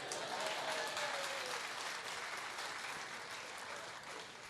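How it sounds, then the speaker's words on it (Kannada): An audience at a humorist's stand-up show in Sydney breaks into sustained applause, a dense wash of clapping from a large crowd that stays steady and slowly tapers over several seconds. "ದಯವಿಟ್ಟು ನಿಮಗೆ ಖುಷಿ ಅನ್ನಿಸ್ದಾಗ ಚಪ್ಪಾಳೆ ತಟ್ರಿ"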